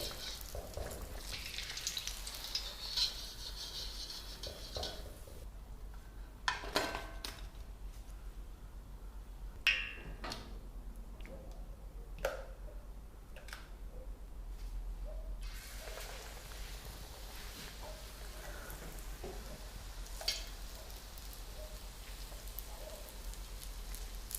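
Vegetable bhajis fry in hot oil with a steady bubbling sizzle. Sharp clicks and taps of utensils against the pan break in at intervals, and the sizzle dips quieter for a stretch in the middle.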